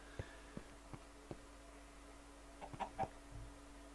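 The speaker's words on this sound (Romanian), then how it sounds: "Am auzit eu cumva găini?" Chickens clucking in the video game Minecraft, a series of faint, short clucks spaced irregularly over a steady low background hum, with a couple of slightly louder calls near the end and no talk.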